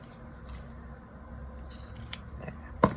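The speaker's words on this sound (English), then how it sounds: "Grab some scissors. Cut out a piece." A pair of blunt scissors cuts a piece from a planner sheet, mostly quiet handling and then a quick pair of sharp snips at the end.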